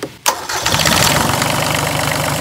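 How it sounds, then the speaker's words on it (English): A marine diesel engine cranks briefly and then fires up, settling into a steady, loud, close idle running alone. "And then simply all we do is we just start the engine up"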